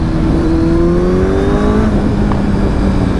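A super bike engine drones steadily and loudly as the rider speeds up, a constant rising tone with road noise and no exhaust roar.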